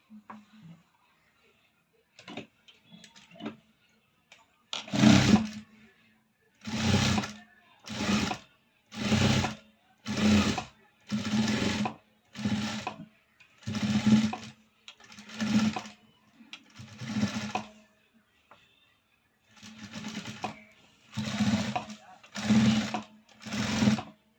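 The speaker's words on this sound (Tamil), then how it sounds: "சைடு மடித்து தையல் போட்டுக்கலாங்க" A sewing machine stitches a blouse in repeated loud runs of a few seconds each, with short pauses between them and a couple of faint ticks at the start, and no voices.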